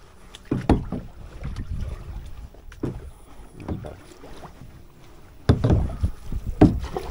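A canoe paddled through shallow water, with several separate splashy paddle strokes and swirls spread unevenly across the stretch, close by, against light wind and a quiet outdoor background.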